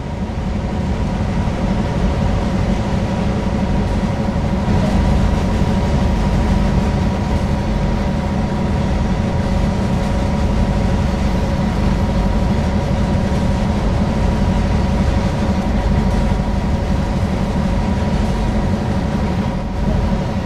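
Train Sim World 2020 train heard from outside, a loud steady rumble and drone of rolling stock and engine that holds without a break, with no talk.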